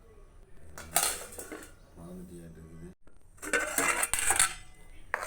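A metal lid set over a vessel of lentil dosa batter: two bursts of close metallic clatter and clinking, with some talk in the quieter gap between them.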